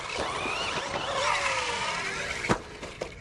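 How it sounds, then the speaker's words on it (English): A Team Corally Asuga 1/7-scale 6S electric RC buggy's motor whines up and down in pitch as it drives nearby, with a sharp tick or clack near the end. "plenty of power, even for a bigger RC car like this"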